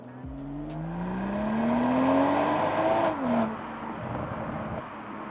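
A BMW M340i or M340d driving on a narrow B road, its engine note rising through the revs, peaking and falling at a shift, then settling into a steady drone, heard from inside the car.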